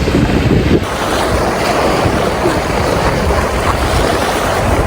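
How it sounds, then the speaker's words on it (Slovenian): Strong wind gusting at the seaside near Marino di Pisa, Tuscany, roaring loudly and continuously across the microphone with a broad rush of surf-like noise, no voices. "Ful ga piha."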